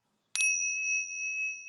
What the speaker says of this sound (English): these are called tingsha's